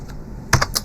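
A few quick keystrokes on a computer keyboard, clustered near the end after a short quiet stretch, close and fairly crisp.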